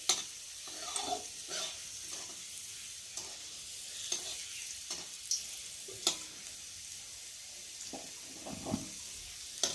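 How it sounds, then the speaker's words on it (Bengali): Garlic fries quietly in a pan, with a soft continuous sizzle and repeated scraping stir strokes of a spoon, and no one speaking. "ভালো করে ভেজে নিই"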